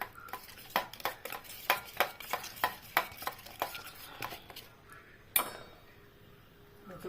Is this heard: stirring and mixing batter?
yes